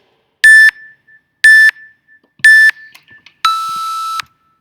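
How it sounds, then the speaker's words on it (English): Three short electronic beeps evenly spaced about a second apart, followed by a longer sustained beep, loud and clear with quiet gaps between. "So ignore the first 3 beeps."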